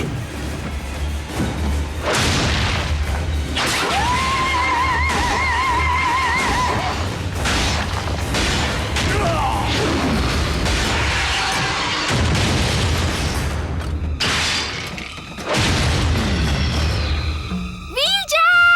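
Cartoon battle with grenade blasts among the Transformers robots, heavy booms and thuds with crashing debris mixed with whooshing effects and shouting voices throughout.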